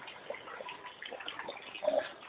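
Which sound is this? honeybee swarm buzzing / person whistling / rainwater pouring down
rainwater pouring down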